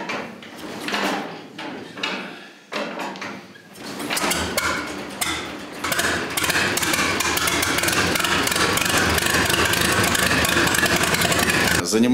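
A restored 76-year-old tractor engine starts: metallic clunks and knocks build over the first few seconds, then the engine catches into a loud, steady, close-up roar that runs continuously to the end, with a voice faintly underneath.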